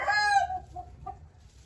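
A fighting rooster gives a loud, close crow that tapers off, followed by a couple of softer clucks over a low background hum.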